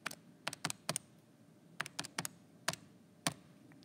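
Numbers typed on a calculator or keyboard in quick clusters of sharp, close key taps separated by short pauses, with no talking.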